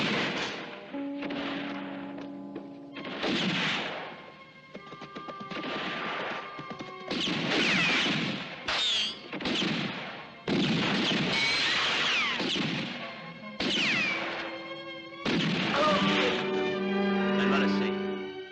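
Gunfire from a western movie shootout, with repeated loud shots and crashes in clustered volleys. Voices shout in between.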